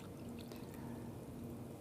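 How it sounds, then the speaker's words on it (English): Water poured into a beaker resting on a slope of soil, a soft continuous trickling and splashing wash, faint and steady throughout with a light ringing tone beneath and no talking. "We place it on that slope and we'll fill it with water."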